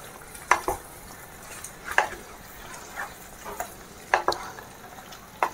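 A spoon scrapes and taps in a pan in irregular strokes while chickpeas cook with a soft sizzle underneath.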